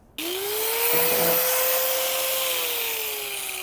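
A cutting wheel slices through the hood of a 1974 Honda Civic, a steady high whine that rises and holds, with a gritty rasp through the middle and a slow fade near the end.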